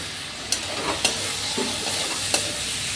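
Tomatoes with ginger-garlic paste sauté in a home kitchen pan, a constant sizzle broken by several sharp spatula scrapes and taps as the mixture is stirred.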